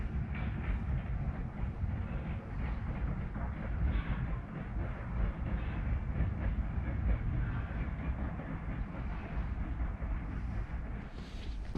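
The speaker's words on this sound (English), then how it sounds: "I think the train had to back out of the yard, back to a switch, and get on another track that goes up through the canyon." Nevada Northern Railway engine number 40 rolls along, giving a continuous low rumble with steady clatter from the railcars, heard from a moderate distance with no talk.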